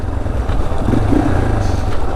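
Yamaha TTR230 dirt bike engine running on a trail ride, a loud, steady four-stroke drone close to the microphone with no talk over it.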